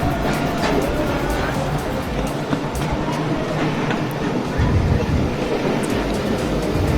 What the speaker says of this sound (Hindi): ट्रेन ने अपने टाइम पर कोयटा रेलवे स्टेशन को गुड बाय बोल दिया और हम लोग कराची की तरफ निकल पड़े